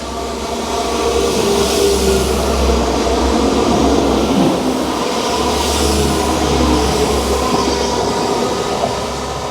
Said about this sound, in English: a little disturbance by the train there, John.